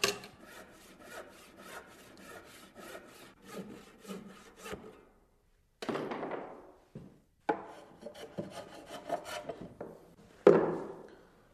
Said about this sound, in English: This is some of that planing and fitting I was talking about.